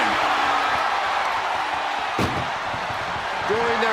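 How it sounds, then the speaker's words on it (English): An ambulance door slams shut once, sharp and loud, in the WWE 2K25 wrestling game, rising out of a steady roar of arena crowd noise with faint commentary underneath. "And they can slam this door shut."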